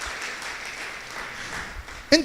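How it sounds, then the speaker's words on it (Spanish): Applause from a church congregation, soft and somewhat distant, a brief patter of clapping that fades as a voice begins speaking at the end. "Le damos un aplauso al Señor."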